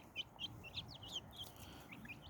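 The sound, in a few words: birds chirping up in the trees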